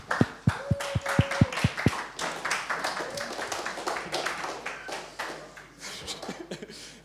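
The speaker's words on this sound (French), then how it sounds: "On peut l'applaudir déjà, bravo." An audience at an evening tech talk at a hackerspace gives a short round of scattered, moderately close applause, with several loud individual claps early on and a light chatter and chuckles underneath.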